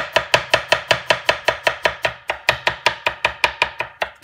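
A knife finely chopping onion on a board for çiğ köfte, with fast, even, closely spaced chops of about five per second, crisp and near, with no talk.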